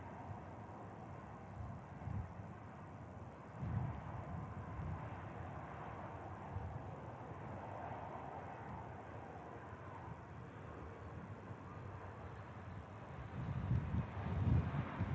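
An airplane arriving from Aberdeen comes in at Manchester Airport, a distant, faint jet roar blended with gusty wind noise, swelling slightly near the end.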